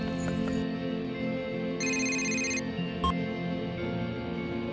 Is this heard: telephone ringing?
yes